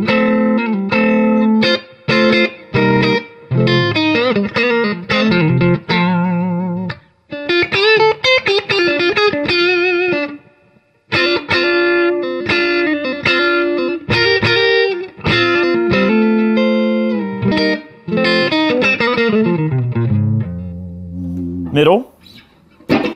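Clean electric guitar played through a Fender Super Reverb tube amp with a splash of the amp's own reverb, strummed chords and picked lines ringing steadily and close for about twenty seconds, no pedals, ending with a quick sliding squeal.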